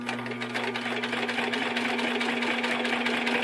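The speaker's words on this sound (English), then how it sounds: "it's winding the bobbin while we're sewing" A Typical TW3 441S industrial sewing machine runs steadily while its bobbin winds at the same time, giving a continuous close motor hum with a strong tonal drone and a fast mechanical needle chatter, heard alone with no talk.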